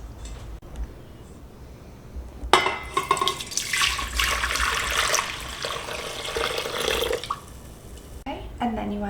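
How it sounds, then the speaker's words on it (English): Vinegar is poured into a pot as a steady, splashing stream of liquid running for several seconds, with speech around it. "So first of all, we are going to pour 11 cups of vinegar into this pot."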